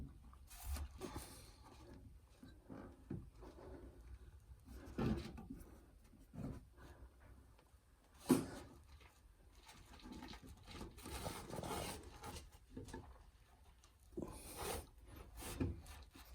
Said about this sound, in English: Tighten it up using an old file or a rusty chisel that can engage the lugs inside the